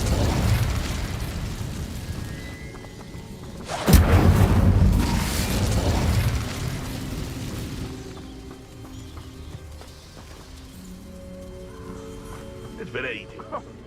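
An Incendio fire spell bursts in the Hogwarts Legacy video game, a loud booming blast that rumbles and fades over several seconds, followed by quieter game ambience and a voice.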